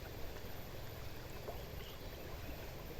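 A fast-flowing river stream where someone is fishing for hampala, heard as a faint, continuous broadband rush of water with no distinct events and no talking.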